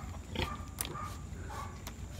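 A pig gives a few short grunts and squeals, close and fairly faint, against a noisy farmyard background.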